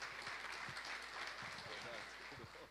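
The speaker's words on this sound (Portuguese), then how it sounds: "Vamos receber com uma salva de palmas nosso companheiro Eduardo Martins." Steady, dense applause from a seated audience at a talk on sustainable agriculture, welcoming a speaker onto the stage; continuous broad clapping heard from some distance, fairly quiet, with no voices over it.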